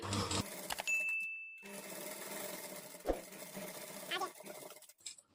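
A sewing machine stitches a princess-cut blouse in short bursts of whirring, with pauses between runs, while a person talks over it.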